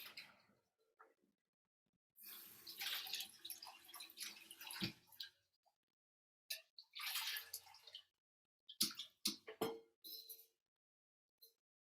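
Cooked rice being drained, with water pouring and splashing in bursts alongside clinks of a pot or lid, close and fairly quiet, no speech.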